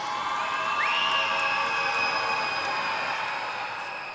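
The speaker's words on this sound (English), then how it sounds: "Crowd making their presence known" An indoor crowd at a women's college basketball game between Fordham and Dayton roars and cheers loudly during free throws, a dense sustained wash of voices with a rising whistle-like tone riding on top.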